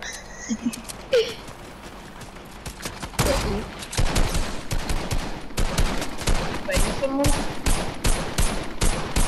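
Rapid bursts of gunfire in a Fortnite duos match, sharp repeated shots and short volleys clustered through the clip, close and loud, with faint game effects between them.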